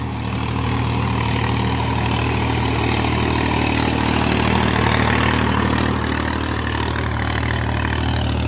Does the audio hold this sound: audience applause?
no